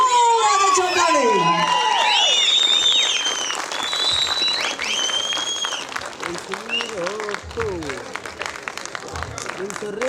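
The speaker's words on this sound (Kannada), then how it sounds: "ದಯವಿಟ್ಟು ಜೋರಾದ ಚಪ್ಪಾಳೆ" An audience at a film title launch event for the movie King bursts into loud, dense applause, with whistles and cheering over swooping music-like tones, the clapping swelling and continuing steadily to the end.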